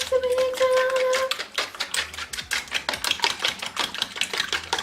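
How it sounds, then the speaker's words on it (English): Fork whisking eggs in a bowl for French toast, a fast, steady run of light tapping clicks against the bowl, close and fairly loud, following a brief tonal hum at the start. "I'm gonna grab a fork just to mix it all up"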